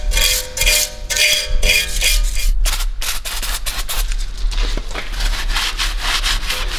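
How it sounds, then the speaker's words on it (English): A wire brush scrubs worn brake components in rapid, harsh scratching strokes, close and loud, with occasional metallic clinks between the bursts. "I'm going to get the wire brush on this, tidy it all up a little bit"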